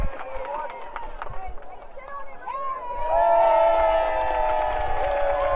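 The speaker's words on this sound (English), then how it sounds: "the cheer you hear from the Travis fans is because somebody's dad went and got the home run ball" Travis fans cheering at a 6A bi-district high school softball playoff game, a crowd roar of raised voices that swells and holds steady in the distance, with chatter mixed in.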